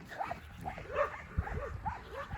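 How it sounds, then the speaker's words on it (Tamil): Several dogs bark and yip at night in a forest near Kodaikanal, short faint barks coming in a loose, irregular cluster at a distance, with low background noise. "3 நாய் ஒண்ணா நித்து மிரட்டுது"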